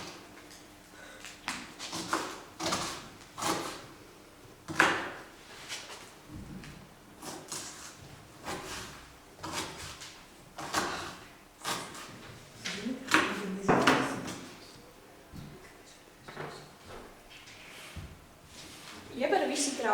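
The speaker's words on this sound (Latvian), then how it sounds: "Smalki sagriež kāpostu." A knife finely slices red cabbage on a board, close and crisp, in an irregular series of quick cutting strokes with short pauses between bursts.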